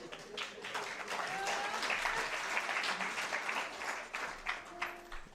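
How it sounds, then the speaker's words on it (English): Round of applause from an audience at a university teaching and learning awards ceremony, a dense steady clatter of many hands lasting throughout and thinning slightly toward the end. "thanks for that round of applause, but you jumped the gun."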